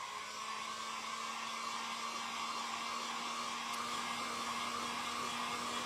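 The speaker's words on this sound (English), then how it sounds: "I'm just going to quickly dry this off." A hair dryer blows steadily on a stamped pumpkin craft made from thrifted book pages, a continuous close whir with a constant hum and no talking.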